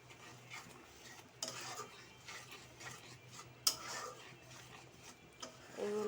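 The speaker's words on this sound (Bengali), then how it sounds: "এগুলো সব একসাথে নেড়ে কিছুক্ষণ কষিয়ে নেব।" Yogurt, garam masala and cumin powder being stirred together in a pan, with soft scraping, light clinks of a spoon against metal and a faint sizzle underneath, quiet and intermittent.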